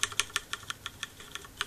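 Typing on a Ducky Shine Limited Edition Year of the Dragon 2012 keyboard with Cherry MX Red switches: about a dozen soft, evenly spaced keystrokes, close and fairly quiet.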